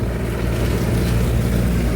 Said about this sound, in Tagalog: Kaya lang maingay din yung mga sasakyan dito.